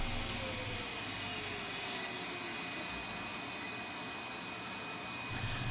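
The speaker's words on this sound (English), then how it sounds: "here I am ripping down some wood to build one of the overhead cabinets" Power saw ripping pine plywood for an overhead cabinet in a workshop, a steady loud whining drone held throughout with no talk.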